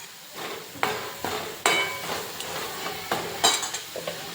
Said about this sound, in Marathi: तेल सुटेपर्यंत हा मसाला आता भाजत राहायचा